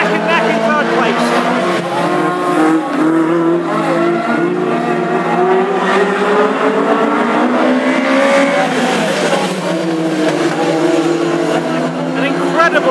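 Classic hot rod cars racing at Aldershot Raceway in a summer final, several engines roaring and revving close by with tyre noise, loud throughout under a commentator's voice.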